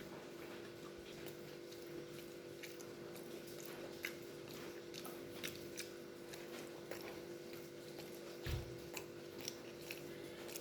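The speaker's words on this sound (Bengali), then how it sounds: "কাঁচা কলা খাচ্ছি।" Someone eating a raw green banana, with faint scattered bites and chewing clicks over a steady low background hum, close but quiet throughout.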